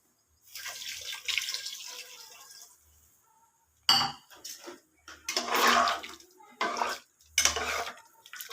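Water poured from a tumbler into a pot of mutton gravy during home cooking, heard as several short splashing, clinking bursts separated by pauses, fairly close and moderately loud with no talk.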